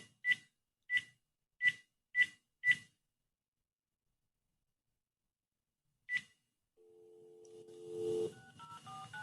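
Five quick touch-tone phone keypad beeps in an even rhythm, a sixth beep after a pause, then a steady dial or ringing tone rising into mixed electronic noise; no talk.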